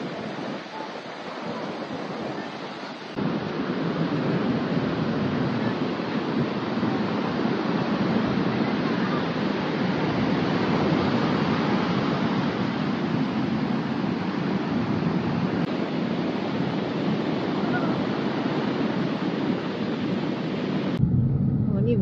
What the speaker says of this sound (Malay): Ombak dia tinggi sebenarnya.